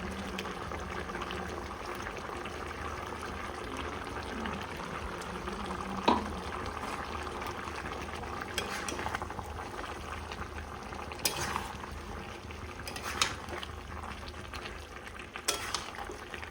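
Chicken with a ground paste of ginger, garlic and green chili frying in a pan, giving a continuous soft bubbling sizzle with occasional faint stirring clicks and knocks, no voices.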